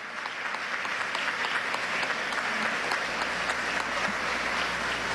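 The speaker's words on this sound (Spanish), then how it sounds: "quiero que le demos un aplauso de bienvenida a la patria de Bolívar y Chávez, del profesor Ignacio Ramonet" A lecture audience in Venezuela gives sustained, even welcoming applause for Professor Ignacio Ramonet, steady and fairly near, with no voices over it.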